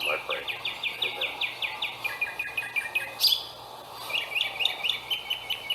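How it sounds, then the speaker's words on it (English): Rapid, repeated bird chirps in quick rhythmic bursts, several songs overlapping nearby, with a brief sharper call in the middle and faint background hum. "Listen to the birds singing."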